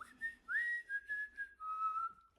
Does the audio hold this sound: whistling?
yes